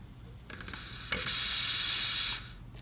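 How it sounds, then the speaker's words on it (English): Pressurized oxygen escaping through a tank regulator as the valve opens: a sudden loud steady hiss after a few clicks of the knob, lasting about two seconds before tapering off, close and alone. "So when I turn this on, we're going to hear that escape and we're going to watch this needle now come back down."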